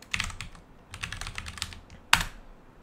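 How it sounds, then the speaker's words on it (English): Typing on a computer keyboard while setting up an Ubuntu Minecraft server: quick bursts of close, crisp key clicks in an uneven rhythm, with one louder key strike near the end, no talking. "Now you have to type like that."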